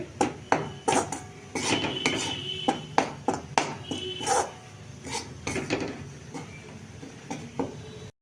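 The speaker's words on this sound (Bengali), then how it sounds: "এবার এটাকে নাড়াচাড়া করবো" A utensil stirs and scrapes food in a metal pan while cooking, with sharp irregular clinks and knocks, some clustered and some spaced apart, close to the microphone.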